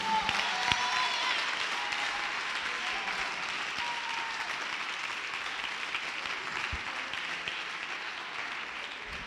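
Audience applause at a church service swells as continuous clapping from a crowd, loud at first and slowly easing while still sustained, with no voices over it.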